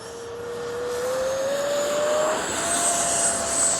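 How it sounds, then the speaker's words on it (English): A Freewing 70mm EDF F9F-5 Panther RC jet flies past with flaps and gear up, its ducted-fan whine steady and loud, the pitch sliding upward as the model passes. "This is about one of my favorite 70s to fly."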